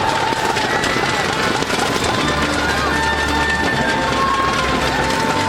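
Roadside crowd at the Tour de Pologne stage finish in Bukowina Tatrzańska cheering and applauding arriving cyclists, a steady dense roar with a commentator talking over it throughout.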